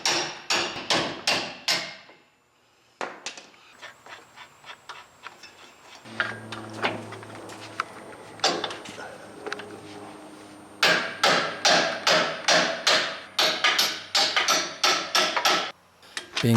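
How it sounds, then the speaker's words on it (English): Hammer taps drive factory bolts through a Jeep JL Wrangler control arm, close sharp metallic strikes in quick bursts of several blows, with a pause and some softer clanking in between. "a few taps with a hammer will be needed to help get them through."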